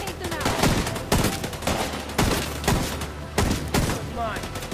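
Rapid bursts of gunfire in The Division 2 shooter game, loud repeated volleys and fusillades about once a second, with voices calling out underneath the shooting.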